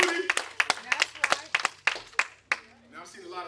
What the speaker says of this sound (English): Now I've seen a lot of brothers clapping